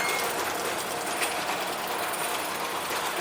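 A Resina U40 automatic capper machine running on 440 volts, its tightening wheels driven through a clutch system, producing a continuous, even mechanical whir and hiss with no pauses or voices.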